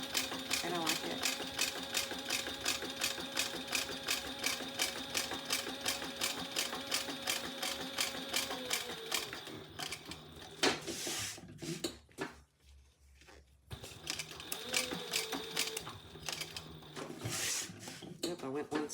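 A sewing machine stitches in a rapid, steady rhythm, close and loud, pausing briefly midway before resuming, with someone talking over it at times.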